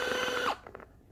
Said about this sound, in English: One button loosens the laces.